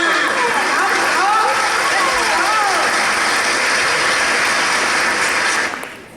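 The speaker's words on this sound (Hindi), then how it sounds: "वाह वाह वाह, तालियां।" Loud, dense applause from the audience at a women's club annual day event, sustained under a voice talking over it, then cutting off abruptly near the end.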